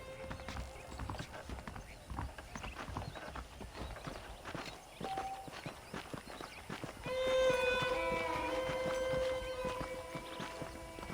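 Horse hooves clip-clopping in a steady rhythm while riding in Red Dead Redemption, moderately close, with a whinny and faint game ambience layered in partway through.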